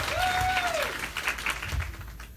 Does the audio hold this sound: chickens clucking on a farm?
no